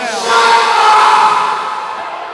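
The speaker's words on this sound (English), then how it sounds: "Just listen to the crowd tonight, Steve." A large wrestling arena crowd roars and jeers at a wrestler, a dense sustained swell of voices that rises and then slowly fades.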